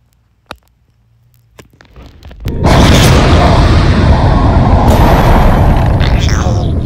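In a space video game, a spaceship suffers a frame shift drive failure and drops out of supercruise: a few faint clicks and thumps, then a sudden loud roaring rumble that swells and holds steady.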